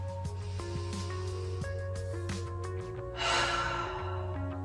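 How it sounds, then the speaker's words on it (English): A single long exhale pushed out through the mouth during a yoga breathing exercise, a soft breathy rush of air midway through, heard over steady background music. "Exhale out through your mouth"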